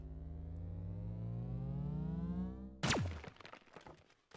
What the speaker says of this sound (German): Und jetzt mit dieser Railgun, wenn wir ganz da unten schießen